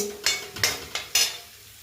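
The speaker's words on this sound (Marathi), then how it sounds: "तर इथं मी व्यवस्थित परतून घेतेय. अद्रक आणि लसूण कच्चापणा थोडं पण नाही राहायला पाहिजे" Quick sizzling bursts as a spatula stirs ginger and garlic in a hot pan, three or four sharp scrapes in a short stretch.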